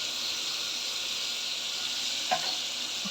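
Ginger garlic paste sizzles steadily in a hot pan, a constant close hiss with a brief clink partway through.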